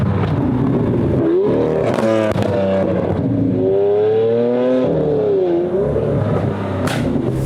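Volkswagen Golf 5 GTI engine revving hard, a loud close-up roar that climbs in pitch, eases off, then sweeps up again through repeated rising and falling revs, with no voices over it.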